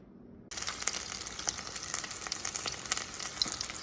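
Samosas deep fry in hot oil, starting abruptly with a steady, close, crackling sizzle and scattered sharper pops running throughout without any talk.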